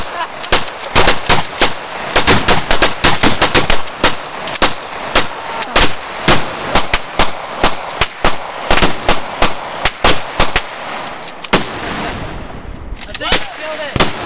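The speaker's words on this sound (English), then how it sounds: "you shall be executed by firing squad" Rapid bursts of gunfire from a firing squad shooting plush toys crack out loud and close, in irregular volleys and quick strings of shots, with a brief pause near the end.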